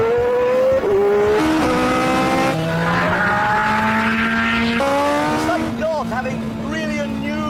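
A Ferrari engine revs hard while driving, its pitch climbing and dropping through gear changes, loud and close throughout with a brief squeal of tyres near the end.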